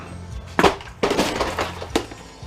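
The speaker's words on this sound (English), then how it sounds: "Let's try the old drop test." A Husky jump starter dropped onto a hard floor to break its casing open: a sharp crash with rattling clatter, then two more heavy impacts about a second apart, close and loud, with no talking.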